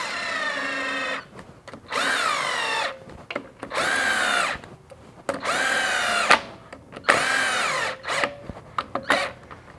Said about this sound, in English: Install our bolts. Speed this process up and run them in till they just touch with this